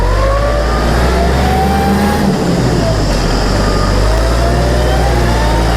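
A Kubota MK5000 four-cylinder tractor engine held at full throttle, a loud, steady mid-pitched drone with a slowly rising tone, close by and continuous throughout.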